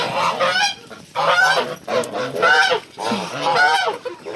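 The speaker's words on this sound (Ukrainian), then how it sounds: "гуси йдіть, я вас за ворота випущу" Several geese honk loudly and close by, their harsh calls coming in repeated bursts with brief pauses between them.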